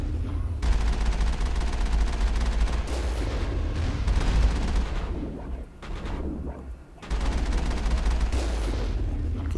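Sustained heavy gunfire and booming blasts roll on almost without a break in a Mass Effect firefight against a sniper, loud and dense, with brief lulls before the barrage picks up again.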